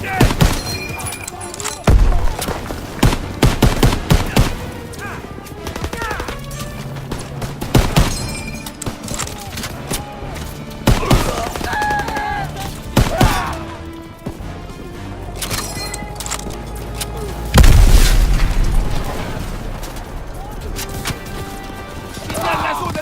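Gunfire and artillery in the World War II shooter Call of Duty WWII: loud, dense bursts of rapid shots and sharp impacts, with a heavy boom late on, under voices.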